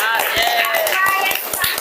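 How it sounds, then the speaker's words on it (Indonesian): A junior high school class gives quick applause, a short burst of scattered clapping from students with voices chattering over it, close and fairly loud. "tepuk tangan dulu"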